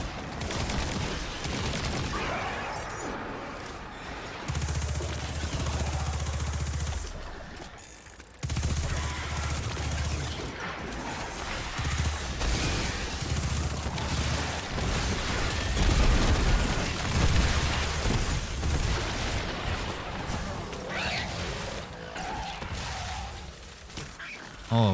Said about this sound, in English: There was a lot of explosions going on right there.